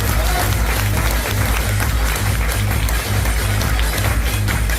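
A motivational seminar crowd claps loudly, with dense continuous applause under a strong low rhythmic music beat and some voices mixed in.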